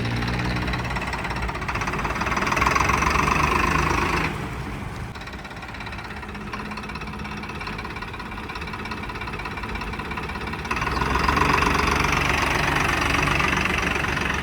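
An Arjun 555 tractor engine idles close by with a steady diesel clatter and knocking rhythm, swelling a little louder at the start and end.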